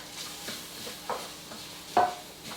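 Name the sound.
grated garlic sizzling in a pan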